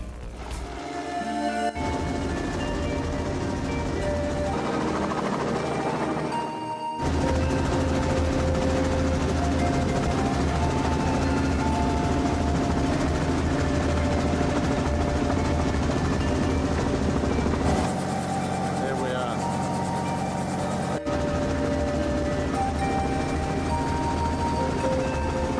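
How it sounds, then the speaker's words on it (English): A helicopter flies over Katherine Gorge in Australia, its loud, continuous rotor and engine drone filling the whole stretch, with a brief dip in level partway through. "we all took a helicopter ride to view the famous Katherine Gorge"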